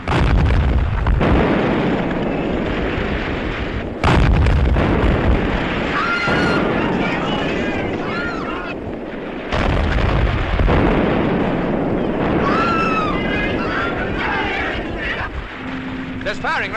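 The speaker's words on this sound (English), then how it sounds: "There's firing round that headland." Naval gunfire and explosions at sea from a warship's guns firing round a headland, heavy booming blasts recurring over a sustained rumble, with several loud onsets and shouted voices mixed in.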